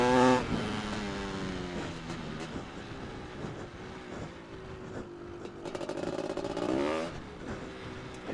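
A Honda CR500 R two-stroke motocross bike revs and pulls hard around a track, its engine note rising and falling through gear changes at close range with no talk.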